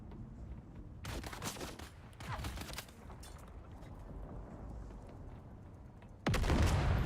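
Gunfire and a grenade in the Dune: Awakening video game: two dense bursts of rapid shots close by, then a sudden, louder blast near the end that rumbles on to the close.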